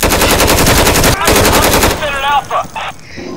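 Rapid automatic gunfire in the tactical shooter Insurgency, a loud, dense burst of shots for about two seconds, then quieter scattered shots and a brief voice fading out.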